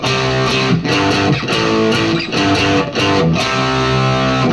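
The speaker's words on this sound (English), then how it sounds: "a bridge pickup also works really great with distortion" A heavily distorted electric guitar on its bridge pickup plays chugging chords in a steady rhythm, loud and saturated with a bright, aggressive edge.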